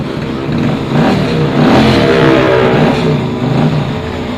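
A Harley-Davidson motorcycle engine, started remotely through a fitted alarm system, runs close and loud with a steady, throaty rumble that swells slightly in the middle.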